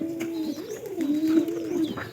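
Giribaz pigeons coo steadily and close by, their soft repeated throaty calls rolling continuously with a few faint chirps mixed in.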